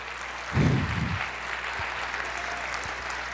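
A church congregation applauds during a service, a short burst of clapping that fades quickly into steady room murmur.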